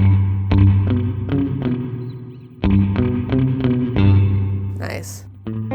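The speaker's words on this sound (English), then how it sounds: "And ping is the spring reverb drip." Guitar notes ring through the spring reverb of an Alexander Space Force pedal with the mix turned up, giving a dripping ping on the attacks, with a brief bright burst of noise near the end.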